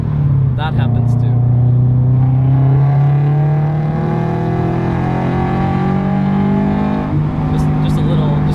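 A Subaru STI accelerating hard during a street race, its engine a loud, close, sustained drone whose pitch climbs steadily before briefly dipping and rising again.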